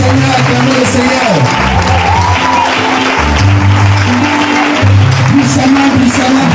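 A church congregation applauds and cheers during a worship service, with a loud, steady wash of clapping and raised voices that carries through the whole stretch.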